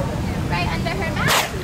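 A person sneezes once at a dolphin show at Miami Seaquarium, a short sharp burst cutting through the poolside crowd noise amid a trainer's spoken commentary.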